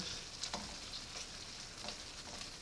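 Seasoned shrimp sizzling in a hot pan on the stove, a steady close frying hiss with a few faint stirring clicks and pops, and no voices.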